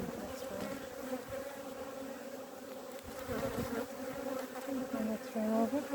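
Honeybees at an open hive during a frame inspection drone in a dense, continuous buzz, with wavering harmonic whines from individual bees flying close to the listener, steady throughout.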